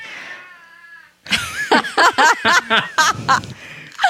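A cat meows repeatedly in a quick series of loud, close, wavering calls after a short quiet stretch, with a fainter whining tone at the start and no talk.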